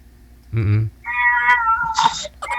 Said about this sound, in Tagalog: May pusa, ingay.